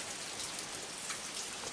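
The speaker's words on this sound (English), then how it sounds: "I don't know where the rain came from" Steady rain falls on a surface on a rainy night, a dense, even patter of drops with no voices and no pauses from start to finish.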